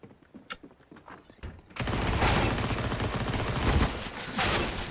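Sustained burst of automatic gunfire in CS:GO erupts after a few sparse clicks and footsteps, loud and continuous for several seconds, with no talk over it.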